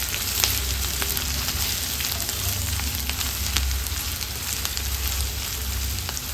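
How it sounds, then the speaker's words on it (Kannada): Chopped ginger and garlic frying in oil over a low flame, a steady, close crackling sizzle with scattered pops throughout, without any talking. "ಈ ಕಟ್ ಮಾಡಿದ್ದ ಶುಂಠಿ ಮತ್ತು ಬೆಳ್ಳುಳ್ಳಿನ ಫ್ರೈ ಮಾಡ್ಕೊಳ್ಬೇಕು ನಿಧಾನ ಉರಿಯಲ್ಲಿ"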